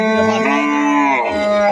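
A single loud, close cow moo, drawn out with a falling tone at the end.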